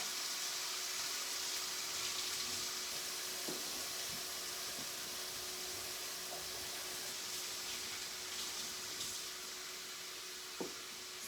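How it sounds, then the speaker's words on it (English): Pork sears in a pan on high heat with a steady, hissing sizzle that holds at an even, moderate level, broken by a few faint clicks and taps. "So right now, all I'm gonna do is just get a nice, good sear. I'm leaving it on high."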